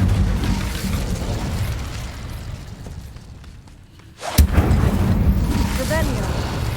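In Hogwarts Legacy, the Incendio fire spell fires with a sudden loud burst and crackling flare after a quieter lull, following a stretch of rumbling ambience and a shouted spell incantation.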